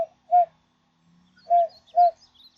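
Two-note turtle dove call imitated by blowing through cupped hands, a pair of hollow, breathy coos followed by a gap and then another close pair, near and clear with no talk.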